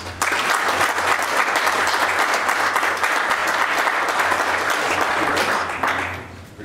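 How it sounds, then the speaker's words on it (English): Sustained applause from the audience at a Winnebago County, Illinois board meeting honoring a community member with a service award, even and steady clapping that fades out at the end. "if you would join me in giving John a round of applause, please."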